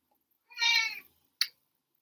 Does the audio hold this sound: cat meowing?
yes